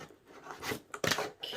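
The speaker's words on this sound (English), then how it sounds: "Let me get my handy dandy little scissors over here." Small scissors snip and slice through packaging on a Walmart limited-edition beauty box, several short crisp cuts separated by brief pauses, close and fairly clear.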